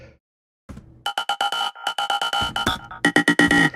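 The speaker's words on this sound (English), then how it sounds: "So this is ring modulation, which is an additional layer." A ring-modulated synth layer on a dance track drop pulses in rapid metallic, bell-like stabs after a brief silence, with a choppy, rhythmic pattern and harsh tones.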